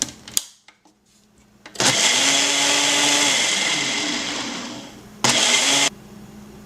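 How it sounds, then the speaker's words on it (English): Blender whirring a garlic-flavored sauce until smooth, starting with a few clicks and short bursts, then a loud steady motor whine that gradually lowers in pitch before a brief final pulse, close up. "we're going to take it and we're going to blend it until it's smooth"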